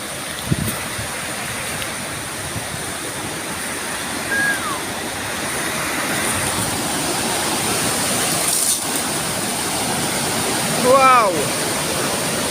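A mountain river rushes in a continuous broadband roar, steady and close, with a brief whistle-like chirp and a faint voice passing over it partway through.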